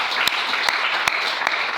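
Congregation in a French-speaking church applauding and acclaiming the Lord, a dense continuous wash of clapping with a few sharper claps standing out at regular intervals, no voices clearly audible.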